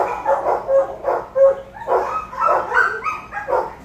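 Several dogs at a county humane society shelter bark and yip in repeated bursts, loud and close, with a couple of whining yelps mixed in and no speech.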